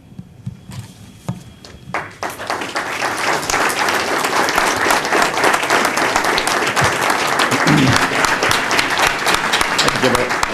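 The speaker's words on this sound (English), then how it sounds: "round of applause to all the speakers who have been absolutely fantastic." An audience at a court memorial session breaks into sustained applause, scattered claps at first building into a dense, steady ovation that keeps going.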